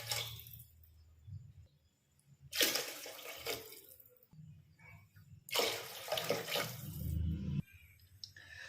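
Water pours into a rice cooker in two separate splashing bursts, a few seconds apart, close by, with quiet clinks and handling noises in between.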